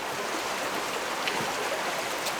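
Water rushes steadily in a stream below a waterfall in a Zion canyon, a dense, even, continuous roar heard close with no voices.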